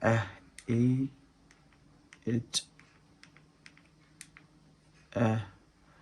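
Scattered keyboard taps while typing a search into YouTube, soft and sparse clicks between bursts of someone talking.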